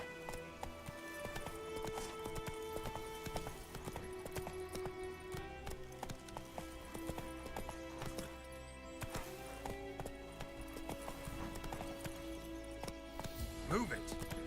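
A horse gallops in a video game with a quick, steady clip-clop of hooves that runs continuously alongside ambient game sounds, with a brief whinny-like flourish near the end.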